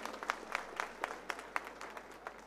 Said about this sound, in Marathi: एकदा जोरदार टाळ्या होऊन जाऊ दे हनुमान शेठ साठी